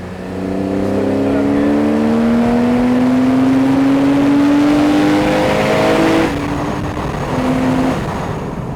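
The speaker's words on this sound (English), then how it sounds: "It's an amazingly sounding car," A loud Porsche 911 997.2 Carrera 4S engine revs up through a gear, pitch climbing steadily, then shifts and settles; close and powerful, no talking.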